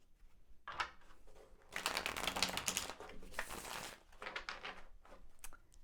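Tarot cards being shuffled close by in several riffling bursts, a long dense flurry in the middle followed by lighter, choppier shuffles.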